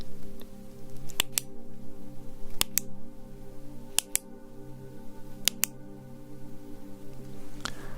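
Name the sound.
series of clicking sounds for counting test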